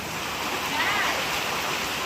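Ton Nga Chang waterfall in Songkhla, Thailand, a steady broadband rush of falling water that holds evenly throughout the short stretch, fairly close and alone.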